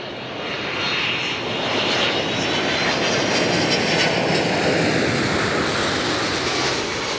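A steady, loud roar of an airplane engine, heard as a dense continuous hum with a bright hiss. It swells slightly and then holds level for the whole stretch, with no talk.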